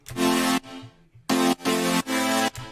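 Bright, buzzy synth chords from a song arrangement play in short sustained stabs with gaps between them, thin at the low end with the bass removed.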